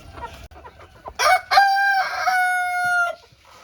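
At a friend's home mini zoo, chickens cluck softly before a rooster lets out one loud, close, drawn-out crow, followed by quieter fowl sounds.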